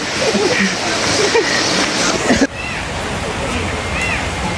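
Water pours at the Udayagiri Salvapet waterfall in a dense, continuous rush, loud and close, with voices faintly mixed in.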